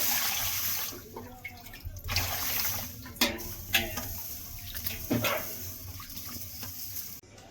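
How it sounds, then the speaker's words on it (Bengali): Mashkalai dal being washed by hand in water, rubbed and rinsed repeatedly in a kitchen, with irregular sloshing and swishing splashes at close range and no talk. "অনেকবার ধুতে হবে, 10-12 বার সুন্দর করে ধুতে হবে। এটাকে কষলে কষলে ধুতে হবে"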